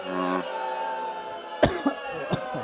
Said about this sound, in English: I coughed all up in the shit